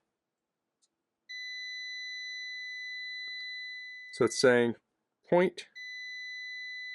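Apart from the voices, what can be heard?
digital multimeter continuity test beep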